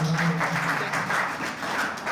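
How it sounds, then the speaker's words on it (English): Audience applause for the NAFDAC team at a food processing industrial park event, a steady wash of clapping from a crowd lasting the whole moment, moderately loud. "Let's give a round of applause to the team."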